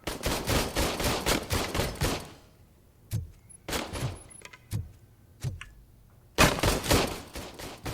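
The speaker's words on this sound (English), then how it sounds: "You guys are shooting way too much." Gunfire in RoboCop: Rogue City, heard as a fast volley of shots, then a quieter stretch of single spaced reports with some faint clanks, and finally another dense burst of rapid shots.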